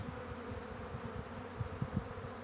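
Honey bees at an opened beehive hum in a dense, steady buzz close by, with a few louder individual bees passing near.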